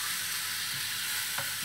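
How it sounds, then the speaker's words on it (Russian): Food sizzles loudly and steadily in an overheated frying pan, a continuous close hiss with a faint scrape partway through. "Шипит, надо сделать поменьше."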